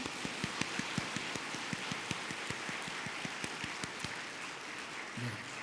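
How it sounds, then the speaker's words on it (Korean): A church congregation claps together in steady, dense applause during a Korean Presbyterian ordination and retirement service, with sharp individual claps standing out over a continuous wash of hand noise that carries through to the end. "우리 박수로 한번 축복하겠습니다."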